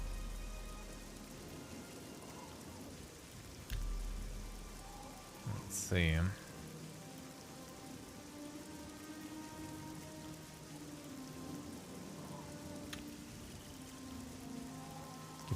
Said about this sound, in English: It's always raining here, dude. It just never stops.